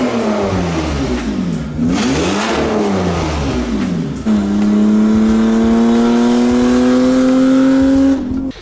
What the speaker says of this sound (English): we even decided to straight pipe the Silver Seraph, which actually turned out to sound impressively awesome